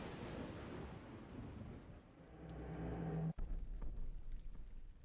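Thunder rolls through a video game lightning storm as a steady, loud rumble with rain-like hiss, broken near the middle by one sharp, close crack before the roar continues.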